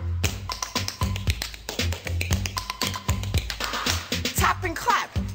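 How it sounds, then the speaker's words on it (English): Rhythmic tapping and hand clapping at a children's rhyming game for International Children's Day, close and fairly loud, with sharp repeated hits in a steady pattern and some background music and voices. "so I'll tap and clap at the same time."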